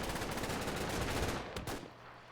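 Sustained machine gun fire from the WWII strategy game Combat Mission: Fortress Italy, a dense, loud burst of overlapping shots that ends abruptly partway through, leaving a quieter tail.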